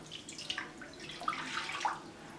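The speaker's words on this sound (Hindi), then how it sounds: "2 गिलास पानी डालेंगे" Two glasses of water are poured into a kadhai on a stove for a stuffed bitter gourd (karela) recipe, a soft, faint splashing and trickling with scattered droplet sounds.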